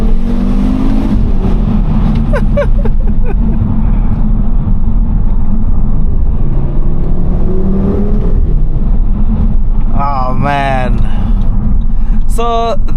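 A 2014 Audi RSQ3 with a 310 hp five-cylinder engine and seven-speed S-tronic dual-clutch gearbox drones loudly under load while driving, rising in pitch through the revs, with sharp rising surges near the end, heard from the cabin.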